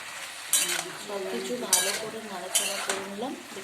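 Cauliflower and potato with cumin and coriander powder stirred in a pan, with a utensil scraping and clinking against the metal in a few distinct strokes over a soft sizzle. No one speaks.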